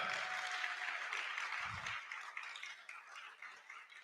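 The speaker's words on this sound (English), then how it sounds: "Your clap is not loud enough. Can we do better?" Summit audience at a fintech gathering in Accra applauds in a large room, a faint, steady wash of many hands that sounds distant and slowly tapers off.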